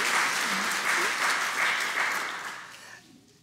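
Church congregation clapping for confirmation mentors during a Sunday confirmation service, a brief burst of many hands with a faint voice briefly underneath, fading out after about three seconds.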